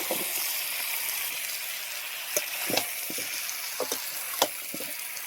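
Malabar spinach and shrimp hitting hot oil and spices in a pan, a dense loud sizzle with scattered spatula scrapes and clicks on top.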